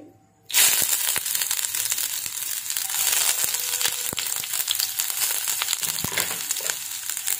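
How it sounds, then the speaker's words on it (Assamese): Chopped ginger and garlic hit hot mustard oil with a sudden loud burst of sizzling, then keep a steady close hiss with scattered crackling pops, cooked for chilli soya. "তেলখিনি গৰম হোৱাত ইয়াত মই কুটি ৰখা আদা নহৰুখিনি দিম।"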